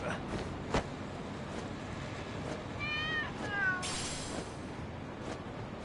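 Cats meow in the video game Lost Judgment, with a few short, upward-bending meows around the middle over a steady hum of background ambience.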